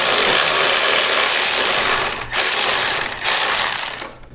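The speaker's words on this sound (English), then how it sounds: "we're just going to remove these two bolts on both sides" A ratchet loosens bolts on the rear fender of a Softail motorcycle, a loud, close, continuous mechanical whirring rattle that dips briefly twice before fading at the end.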